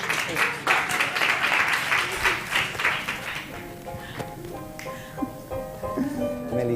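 Applause from a small group greeting a school cooking project, fairly loud at first, then thinning into scattered claps under background sounds.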